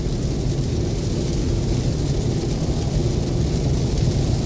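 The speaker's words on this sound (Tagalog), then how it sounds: "umuulan na ganito eh, lakas-lakas ng ulan" Heavy thunderstorm rain pounds steadily on a Tesla Model 3, a dense, continuous drumming roar with a deep rumble underneath, loud and unbroken from start to end.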